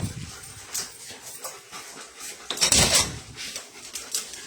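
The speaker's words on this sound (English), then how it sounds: "Let me take this dog outside." A dog is taken outside through a door: a close jumble of scuffling, door and latch clatter, and a brief whine, loudest in a burst near the middle, with no clear speech.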